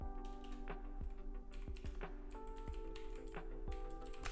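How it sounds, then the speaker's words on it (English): Fingers type a prompt into ChatGPT on a computer keyboard in a run of crisp, close keystrokes, some clustered and some spaced, over a steady mechanical hum with tonal lines underneath. "Now here you need to just type in write me"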